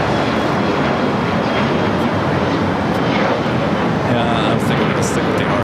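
A United Boeing 737-800 airliner at LAX, heard as a loud, steady broadband jet roar that fills the whole stretch without letting up.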